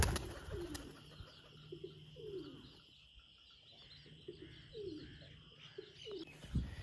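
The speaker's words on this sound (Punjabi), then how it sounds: "ਦੋਸਤੋ ਇਹ ਵਾਲਾ ਉਹ ਵਾਲਾ ਕਬੂਤਰ ਹੈ ਇਹ ਦੇਖੋ" A pet pigeon with rings on its legs gives repeated soft, throaty coos in a steady rhythm, close by, over a constant low hum and a few faint chirps.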